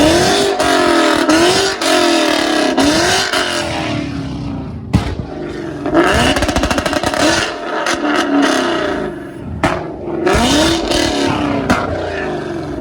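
Ford Mustang fitted with a loud Borla exhaust, revved hard again and again, each rev a close, loud roar with rattly crackle, and short gaps between pulls.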